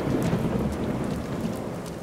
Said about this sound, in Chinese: 还有雷声，是啊，打雷了